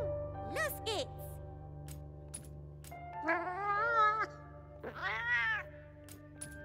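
A cat character in the video game Monster Hunter Wilds lets out several distinct rising and falling meows, spaced apart over a low steady game hum.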